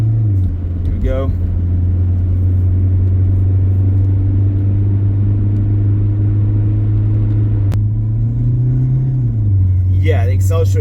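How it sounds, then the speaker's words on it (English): A 2003 Toyota Corolla engine drones loud and close at a steady fast idle, its low hum rising briefly as it accelerates near the end, with a voice speaking over it at the start and finish. "I'm stopping fast, bringing it down to a fast idle, you know, reducing my speed quite a bit"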